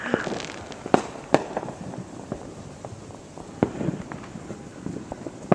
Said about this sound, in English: that's how much fireworks are being blown off